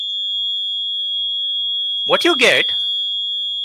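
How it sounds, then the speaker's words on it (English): Two steady buzzer tones at 3300 Hz and 3500 Hz sound together for the whole stretch, continuous and piercing at an even level, while someone speaks briefly over them. "you have one buzzer at 3300 Hertz, which we set here, and another at 3500"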